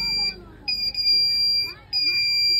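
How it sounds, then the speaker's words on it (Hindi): A smart cap for a school science project, fitted with an IR sensor, sets off a shrill, steady electronic buzzer tone that cuts in and out in repeated bursts, loud and close, with a voice speaking between the bursts. "जिसमें हम हाथ उसके आगे फेस के आगे लाएंगे तो ये सायरन और बजर देगा।"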